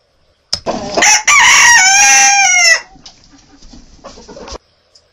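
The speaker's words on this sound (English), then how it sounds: "Roosters can get very noisy." A rooster crows once, loud and close, with a long rising and falling call. A few short clucks follow in an otherwise quiet setting.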